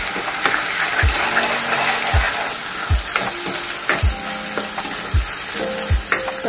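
Ground masala paste for a brinjal masala sizzles as it roasts in a pan. A spatula scrapes it in loud, regular strokes about once a second over the constant frying hiss.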